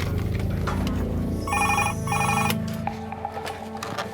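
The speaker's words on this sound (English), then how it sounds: "Whenever that phone rings" A telephone rings in a hospital resuscitation department, two clear bursts of electronic bell trills over a busy background of low hum and murmuring voices.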